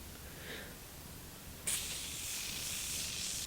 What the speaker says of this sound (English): And this time a dewy setting spray.